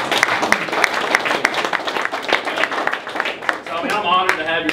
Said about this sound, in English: let's give him a round of applause for doing that